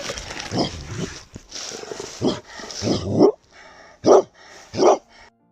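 Dog barking during an evening walk in Germany, several loud nearby barks and yaps in separate bursts, the last two sharp and isolated.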